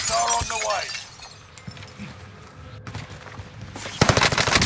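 Gunfire in Call of Duty Vanguard Warzone on Rebirth Island: a loud burst at the start, scattered shots and clatter through the middle, then a dense rapid volley of automatic fire at the end.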